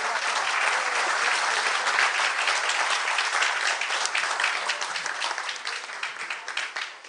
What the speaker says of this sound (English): ladies and gentlemen, please give them a big round of applause once again.